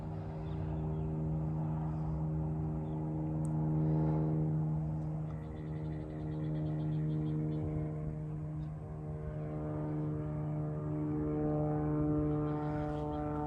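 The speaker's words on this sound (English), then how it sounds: "Plane overhead right now." A propeller plane drones steadily overhead, a low humming engine that swells and fades slightly over several seconds, with no voices.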